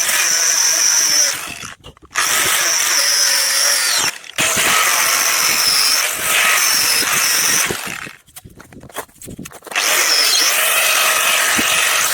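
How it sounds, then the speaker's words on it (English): Grinding parts off a Chinese wind turbine with a power grinder, a loud, close, harsh whine running in long bursts that stop briefly and start again several times. "That was a bit of a mission to grind all that off"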